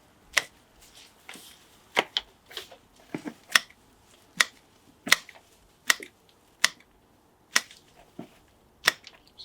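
Plants being cut right back to the base after a show, heard as a run of sharp, close snipping clicks at an irregular pace, each one crisp and distinct against a quiet background with no talking.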